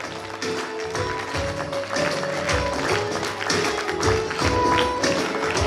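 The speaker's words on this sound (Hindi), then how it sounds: "जोरदार ताली बजनी चाहिए।" An audience applauds at a business award ceremony, with dense, steady clapping that holds at an even level throughout.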